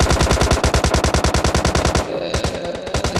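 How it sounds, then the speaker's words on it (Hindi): Machine-gun fire rattles in a shooter video game, a fast even string of loud, close rounds that stutters briefly after two seconds, then resumes with a slight echo and no talk. "कहाँ कहाँ से गोलियां पड़ रही हैं"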